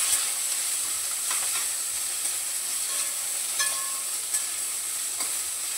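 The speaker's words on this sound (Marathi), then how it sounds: "हे अद्रक आणि लसूण बघा असं टाकून देते यामध्ये. थोडंसं परतून घेते, कोथिंबीर पण घालते." Ginger, garlic and coriander sauté in a hot pan with a steady, close sizzle and hiss, while a few faint stirring scrapes and clinks surface now and then.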